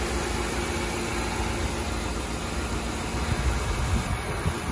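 A 2010 Ford F-150 XL's 4.6-liter Triton V8 runs steadily just after startup, a close, even mechanical drone with a low rumble and no voices over it.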